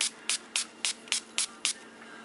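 Seven short, crisp hisses of a small spray bottle misting glimmer mist, pumped in a steady rhythm, close by, with quiet gaps between each burst.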